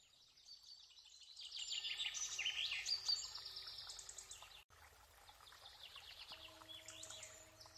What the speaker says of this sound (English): Common Starling.